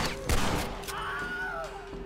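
Gunfire in the Red Dead Redemption video game: a sharp shot near the start, then a tone and a faint sweeping sound over steady game background, with little talk.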